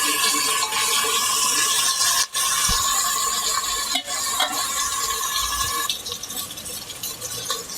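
Spiced poha masala is stirred in a hot pan, a continuous close sizzle with intermittent scraping and a couple of brief knocks of the spoon, no voices.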